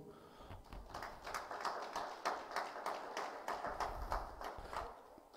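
Audience applause at a university award ceremony, a crowd clapping in quick irregular bursts that sound somewhat distant and faint, with no talk over it.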